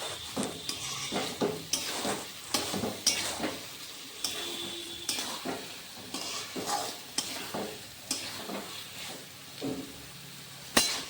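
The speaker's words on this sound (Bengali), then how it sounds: "ভাজা পটলটা দিয়ে ওটাকে ভালোভাবে নাড়তে হবে" A spatula scrapes and knocks around a pan in a steady stirring rhythm over a quiet sizzle of fried pointed gourd.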